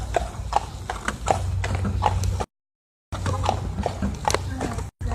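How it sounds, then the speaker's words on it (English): Steady clip-clop of a Percheron horse's hooves on a hard surface in downtown Branson, Missouri, with people talking over the rhythmic steps and a brief gap partway through. "What kind of horse is that? She's a Percheron."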